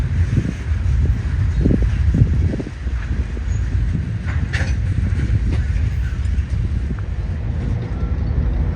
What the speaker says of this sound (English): An empty ballast train with a fresh crew heads up out of the yard